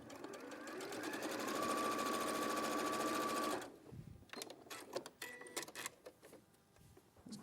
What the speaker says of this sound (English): fold it along the line again. And sew down there.